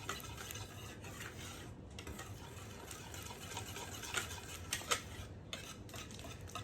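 Batter for an impossible cheeseburger pie being whisked in a bowl, a steady busy scraping and clinking of utensil against the bowl with a few sharper taps near the end, close by, no talk.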